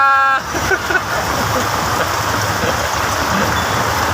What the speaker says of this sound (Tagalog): O ngayon biglang umulan.